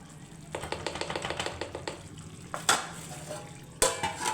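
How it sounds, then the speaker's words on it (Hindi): Liver fries in a pan while a spoon stirs it, giving a run of quick scraping strokes over a soft sizzle, with a couple of sharper clanks of metal against the pan. "कलेजी हमारी आधी भून गई है और कुछ देर और रखूँगी"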